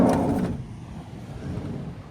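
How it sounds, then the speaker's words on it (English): A camper van's door is popped open at night beside the ocean at Whiskey Gulch, Alaska: a short sliding, clunking burst at the start that quickly fades into a steady background hiss. "Let's pop the door here and take a peek."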